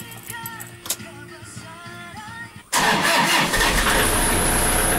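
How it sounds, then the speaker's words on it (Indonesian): A car engine cranks briefly after the key turns, then catches and settles into a loud, steady idle. Quieter interior noise comes first, with no talking. "ini kunci sudah saya masukkan dan mobil saya hidupkan dulu"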